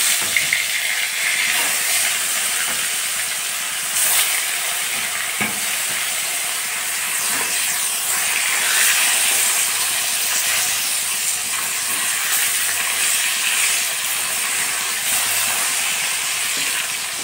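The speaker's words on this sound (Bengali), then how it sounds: "আমার মাছগুলো ভেজে নিচ্ছি" Fish sizzle steadily in hot oil in a home kitchen pan, a constant bright hiss and crackle with occasional louder spits, close by and without talk.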